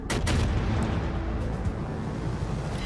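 Main guns of the battleship USS Maine fire a broadside in World of Warships Legends, giving a heavy booming blast up front that rolls into a long, loud rumbling tail.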